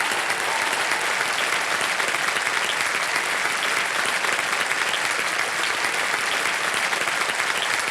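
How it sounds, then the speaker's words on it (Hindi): A studio audience on the KBC quiz show applauds, a close, dense and steady burst of clapping that holds at full strength for the whole stretch. "तालियां बज जाए इनके लिए।"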